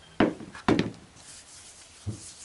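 Hands rub around in a pile of saved woodshop sawdust: two short, loud scuffing bursts close up, then a fainter third rub after a pause, with no talking.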